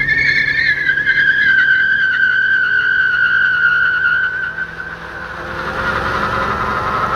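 A Lexus LS400 does a one-tire burnout, giving a loud sustained tire screech with a wavering pitch close by over engine noise, which fades to a rougher hiss near the end.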